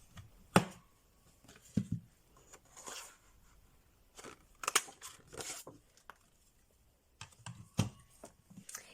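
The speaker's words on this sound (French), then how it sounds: "je vais tout simplement venir découper des cœurs" Scissors snip through decorative design paper to cut out hearts for a handmade folded card, with faint, scattered cuts and rustles spaced irregularly in a quiet room.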